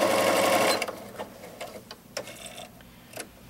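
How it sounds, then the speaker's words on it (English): A Janome DC1050 sewing machine stitching a jean seam, a loud smooth motor whir at the start that stops abruptly, followed by scattered light mechanical clicks and taps. "You can see how easy, quietly, smoothly, and how straight the machine sews without me even touching the fabric"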